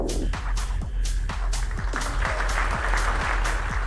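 Mission control team cheering and applauding at rocket stage separation during a Rocket Lab Electron launch, a steady patter of clapping with faint voices mixed in, sustained throughout.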